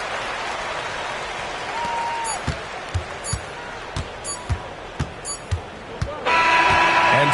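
A basketball arena crowd in NBA 2K roars steadily as the Knicks close out a game after LeBron James sinks free throws. Sharp ball bounces and sneaker squeaks punctuate the cheering, which swells louder at the end.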